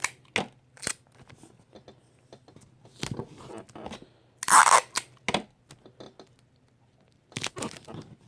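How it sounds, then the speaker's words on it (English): Paper catalog pages taped together by hand, with sharp close rips and crinkles of tape and paper in scattered bursts separated by near-silent pauses. "and then I tape this together"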